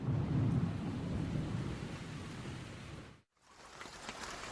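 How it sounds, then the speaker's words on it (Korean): Steady rain falls with a deep rumble of thunder, strongest at the start, in a children's storybook soundscape. The sound drops out abruptly for a moment, then the rain hiss picks up again. "숲속 마을에 비가 내리기 시작했어요"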